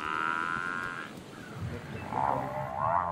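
A lion growls deeply while attacking a buffalo in the wild, a loud continuous rumbling snarl with rough bellowing swells toward the end and no voices.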